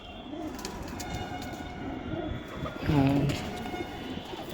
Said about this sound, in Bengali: এই হলো গোল্ডেন আইসের পায়রা